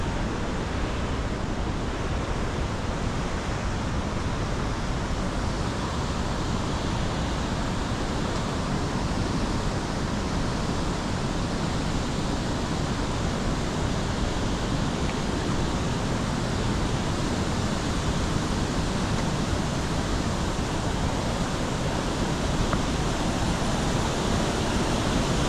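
Steady, dense roar of a waterfall at Valley Falls State Park, continuous and unbroken, like a large flow pouring nearby with a constant hiss.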